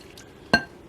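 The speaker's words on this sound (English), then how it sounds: "I'm basically just going to pour half of this over the soy curls." Broth is poured over dried soy curls in a home kitchen, a single short liquid splash near the mic, with quiet room tone before and after.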